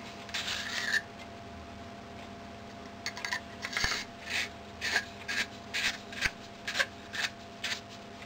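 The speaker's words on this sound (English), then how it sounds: "you're basically sandpapering off some of that" Rhythmic rasping strokes of a reamer sanding plaster from inside an Edison Blue Amberol cylinder record, a few scattered scrapes at first, then a steady series of short, close rubbing passes at roughly half-second intervals.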